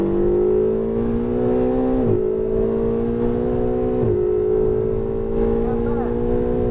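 A Ferrari on a race track accelerates hard, its engine note climbing steadily through two quick gear shifts, loud and close from inside the car, with an instructor's voice faintly underneath.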